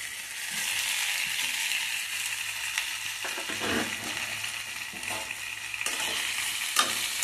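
Fried raw banana and bitter gourd pieces are turned in a pan over a steady sizzle, with scraping and clattering from a spoon stirring in short bursts.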